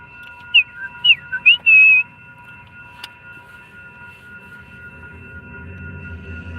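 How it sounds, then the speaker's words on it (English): A catering whistle sounds in a few short rising and falling chirps followed by one sustained tone, all within two seconds, over a steady low background rumble with no talking. "The whistle, hell yeah, that's our catering whistle."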